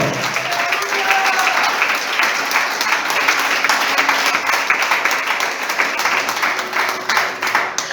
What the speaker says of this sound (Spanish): Aplauda que viene, aplauda. Que se escuche ese aplauso al Señor.